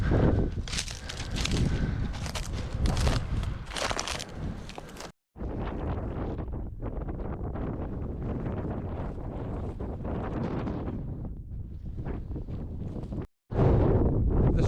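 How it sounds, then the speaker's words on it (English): Strong gusts on an exposed Scottish coastal path batter the microphone with loud, continuous rumbling wind noise, broken by two brief drop-outs, no voices heard. "This is one of the windiest parts of this walk"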